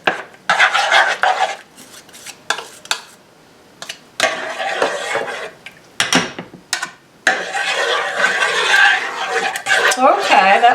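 Spoon scraping and clinking in a metal pot as vegetable oil and peanut butter are blended for a peanut butter sheet cake, in bursts of close scraping with short pauses between.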